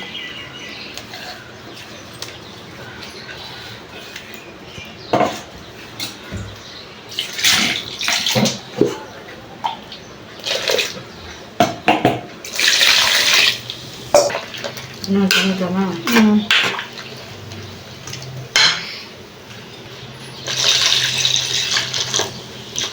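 Water splashes and pours into a metal pot in intermittent bursts, with clinks of cookware and stirring in between.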